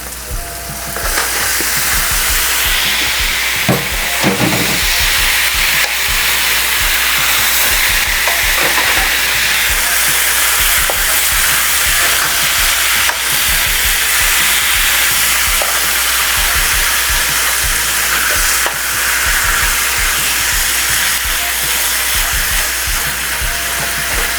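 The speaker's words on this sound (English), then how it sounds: "now we're gonna add our pork" Pork pieces frying in hot oil in a pan for an Indian-style pork masala curry, a loud, steady sizzle that runs unbroken throughout, with occasional stirring scrapes and clicks.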